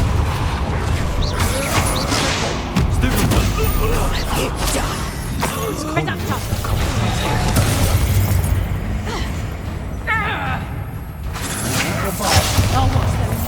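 Confringo and Bombarda spell blasts in Hogwarts Legacy: dense rumbling booms, cracks and mechanical clatter, loud and continuous, with voices shouting incantations over the combat.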